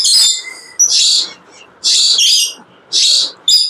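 Red-breasted lory parrots at a bird seller's shop in Mirpur, Dhaka, giving loud, harsh, screechy calls in four or five separate bursts close to the microphone, with short quiet gaps between them.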